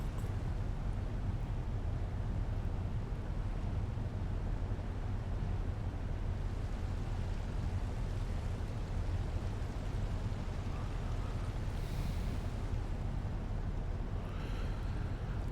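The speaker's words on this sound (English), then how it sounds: "as you can see from inside the ship, the waves are getting pretty choppy" Choppy ocean waves heard from inside a ship in the Ships at Sea video game make a constant, dense low wash and rumble that never lets up.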